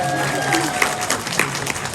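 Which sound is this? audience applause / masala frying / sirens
audience applause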